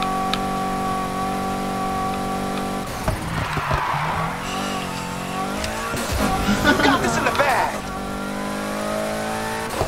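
A car in the racing game Need for Speed Heat revs its engine steadily before a handbrake turn sets off a long, loud tyre squeal and skid, with engine roar resuming afterward and voices talking over it.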